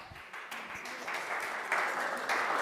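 Applause from an audience at an annual general meeting, a steady wash of clapping that holds at moderate level and swells slightly in the latter part, with no voices over it.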